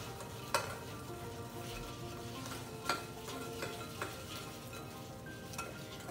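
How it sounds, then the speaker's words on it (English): Pumpkin seeds being mixed with cinnamon and sugar, a steady soft rustling texture broken by a few light scraping clicks of a utensil, close but fairly quiet. "you mix it again until all the pumpkin seeds are covered with the cinnamon and sugar"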